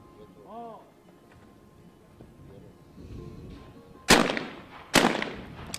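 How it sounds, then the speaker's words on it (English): Two loud, sharp shotgun blasts about a second apart, a normal double fired at targets in the men's skeet final of an ISSF World Cup in Cyprus, heard over faint commentary. "with the Mehelba shooting first and hitting both of the targets in the normal double"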